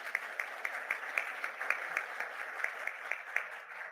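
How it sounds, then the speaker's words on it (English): Audience applause at a youth mental health symposium, a steady spatter of claps sustained for several seconds at moderate level with no voices over it. "can we please give Miss Rachel a huge round of applause?"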